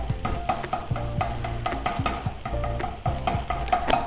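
Egg frying and being stirred in a pan for chicken fried rice, steady loud sizzle with repeated scraping stirs of the spatula throughout, no talking.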